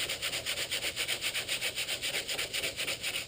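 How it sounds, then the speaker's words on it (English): Hand sanding on the body of a 1994 Dodge Dakota pickup, sandpaper held in the palm: a steady, rhythmic back-and-forth rasping scrub, about seven strokes a second, close and fairly loud with no talking. "you can just take a piece of the sandpaper and you can do it in your hand"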